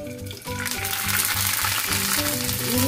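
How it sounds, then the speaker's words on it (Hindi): Thin noodles frying in hot oil over a low flame for a crunchy noodle bhel, giving a loud, steady, crackling sizzle that runs unbroken throughout with no voices. "तेल हमारा गर्म हो चुका है ये। अब इसमें हम जो है ये नूडल्स फ्राई कर लेते हैं।"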